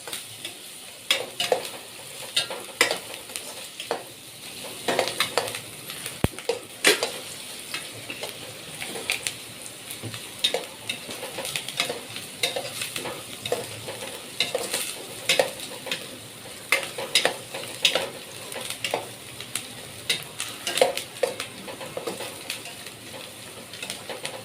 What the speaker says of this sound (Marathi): मिरच्या पण थोड्या ब्राऊन झाल्या का बघा असं परतत राहायचं.